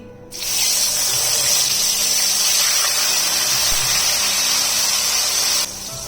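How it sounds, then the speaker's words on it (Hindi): A loud, steady sizzle as ground spice paste goes into hot oil for fish fry masala, a bright hissing spray that starts abruptly, holds evenly for about five seconds, then drops back to a lower hiss. "यहाँ पे इसके अंदर मैं डाल दूंगी ये जो मैंने सारी चीजें ग्राइंड करके रखी हुई थी"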